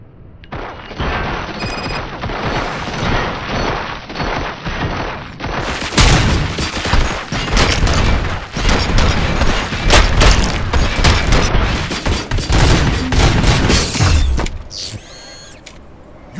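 Gunfire and mechanical clatter from the RoboCop: Rogue City video game, a dense, loud barrage of shots and booms that runs almost without a break across the whole stretch before cutting off near the end.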